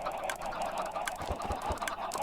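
A crowded pen of chickens clucking in the video game Spellbound Caves II, with quick overlapping clucks and soft thuds at a moderate level and no voices.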